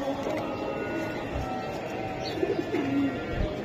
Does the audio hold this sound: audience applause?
no